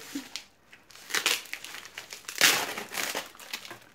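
Parcel packaging covered in tape is torn open and unwrapped, giving bursts of crinkling and crumpling with sharp tearing rips, close and uneven, with no talk.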